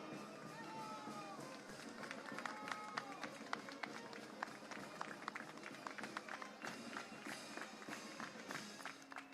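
Applause from a crowd at an outdoor monument unveiling ceremony for a Francisco Pizarro statue, steady dense clapping heard from a moderate distance with scattered voices underneath, continuing without a break.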